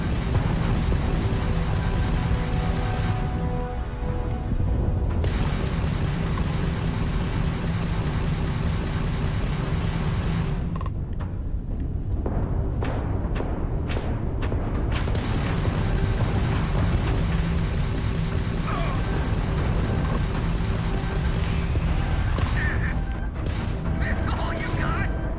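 Missiles firing and exploding in a space combat video game, a dense run of booms and blasts over a steady rumbling game soundscape, loud and continuous with sharper bursts in the second half.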